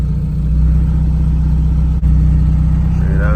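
A turbocharged Honda Civic engine held at steady raised revs with the throttle pinned, a loud continuous droning hum that barely wavers apart from one brief dropout partway through.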